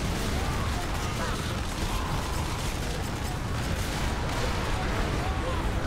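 Mounted heavy bolters firing in the Warhammer 40,000: Space Marine video game, dense continuous rapid gunfire and mechanical rattling close up, with battle noise throughout.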